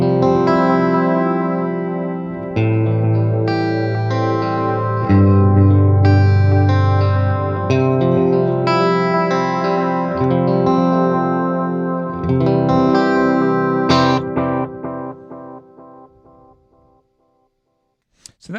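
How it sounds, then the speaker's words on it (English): An electric guitar played through a Wampler Faux Tape Echo V2 pedal set for dark, modulated repeats: chords and single notes with wavering echo tails, fading to silence at the end. "Let's bring up the modulation a little bit. Just let you hear a darker sort of sample of the modulation."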